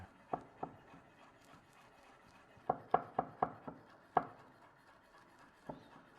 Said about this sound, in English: You just want to get these little bits into small minced bits